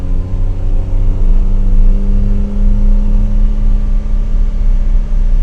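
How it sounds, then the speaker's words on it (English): A Datsun 280Z engine drones loudly from inside the cabin, its pitch rising and falling as it revs at half throttle through a gear change around 5,000 rpm. "So that's shifting at 5, half throttle, just kind of letting it run out"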